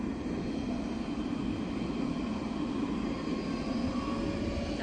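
A tram in Nice, France, rumbles past at a street stop as a steady, moderately quiet low hum and rolling wheel noise, with no talking.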